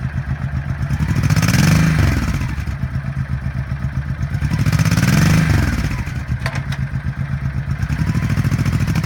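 A 1998 Honda VT1100C Shadow Spirit V-twin cruiser motorcycle engine starts and settles into a steady, loud, close lumpy idle with two gentle revs.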